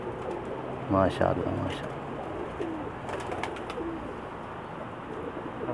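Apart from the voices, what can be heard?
dub pigeons cooing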